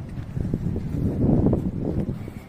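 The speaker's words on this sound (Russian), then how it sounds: "Ебаный ветер." Wind buffeting a microphone outdoors, producing a steady low rumble that swells and fades in gusts with no other sound standing out.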